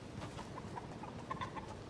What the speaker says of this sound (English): Wait, was that the chicken?